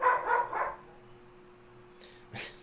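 A dog barks in a quick burst of three or four loud, close barks, then a short pause before another fainter bark and a sharper yelp near the end, with no talk over it.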